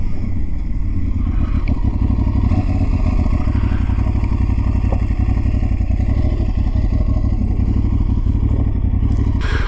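An Aprilia Tuareg 660 motorcycle engine running with a steady, loud, close throbbing drone and rapid mechanical pulsing, holding an even pitch for the whole stretch with no voices.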